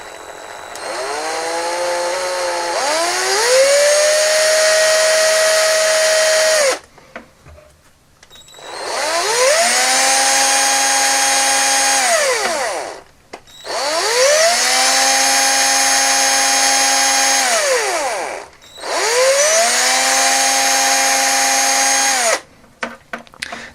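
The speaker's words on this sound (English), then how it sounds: "So let's get this hole drilled." Small power drill boring a hole in a vintage Action Man toy SLR rifle, the motor whining up in four long bursts with brief pauses between, close and loud.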